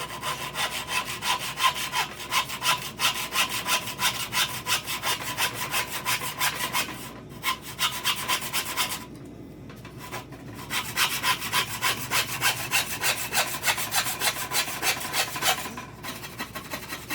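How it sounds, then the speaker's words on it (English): A hand saw cuts through wooden pieces for a homemade Kydex press, with fast even rasping strokes close up. Two brief pauses break a long steady stretch of sawing, and no one speaks. "We're going to cut 2 pieces for each, the top and the bottom, that run the width"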